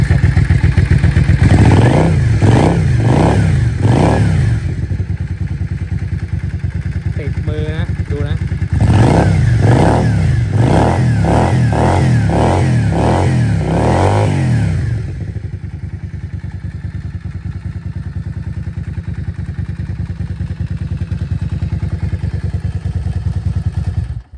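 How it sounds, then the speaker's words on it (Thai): A Yamaha Dragstar 400 Classic motorcycle idles with a steady, close thump, then is revved in two sets of quick blips, four short rises and then about seven more, before settling back to idle. "เครื่องเงียบมาก ลองเบิ้ลดู"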